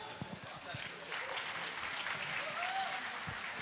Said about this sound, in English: So let us also give a huge round of applause for the cooks.